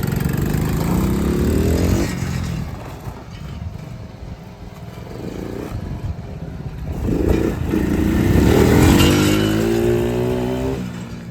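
A dirt bike engine revs up and rides off on a test ride after repair, rising and falling through the throttle with a strong surge near the end, loud and close.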